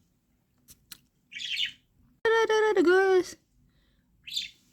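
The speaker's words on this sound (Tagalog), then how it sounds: "They're chasing the seagull." A seagull gives one loud, harsh call near the middle, with fainter short calls from small birds chasing it before and after, and a person speaks briefly.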